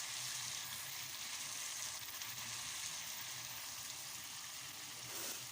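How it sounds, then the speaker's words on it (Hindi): Potatoes frying with spice masala in a pan, a steady close sizzle that hisses continuously for several seconds with a faint stir near the end, no talking. "अब इसको बहुत ही अच्छी तरीके से भूनूंगी मसाले के साथ।"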